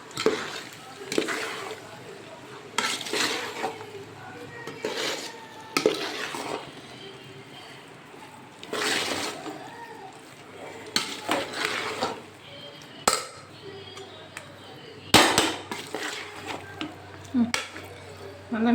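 Pasta with ketchup being stirred in a pan, with soft scraping and intermittent clinks of a utensil against the pan in a quiet kitchen.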